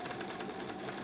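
A sewing machine stitches a scrub cap, running in one steady continuous burst of fast needle chatter for about a second, close and even throughout.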